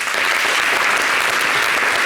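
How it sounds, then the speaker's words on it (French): Audience applause on a French-language TV show, a dense, steady wash of many hands clapping at close range for about two seconds, loud and continuous without a break. "on a qu'à applaudir pour M Group."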